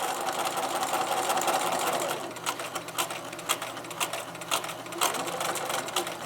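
A sewing machine stitches a quilt close by, with a smooth steady whirr for about two seconds, then a slower run of irregular rapid needle clacks and bursts.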